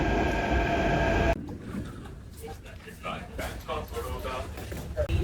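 Steady rumble of a Delhi Metro train running, with muffled voices of passengers talking over the noise inside the carriage.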